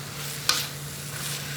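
Carrots being stirred and fried for vegetable lumpia give a soft, steady sizzle beneath a steady hum, with one brief scraping stir near the start.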